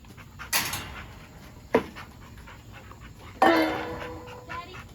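A big dog eating from a bucket pants close by with quick breathy huffs, broken by a few short sharp snorts or whimpers, with no talking over it.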